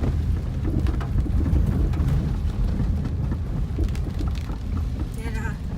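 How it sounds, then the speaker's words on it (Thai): Heavy storm rain pours down outdoors, a steady loud wash of rainfall with occasional low rumbles, while someone talks over it. "มาอีกแล้วฝนมาอีกแล้ว"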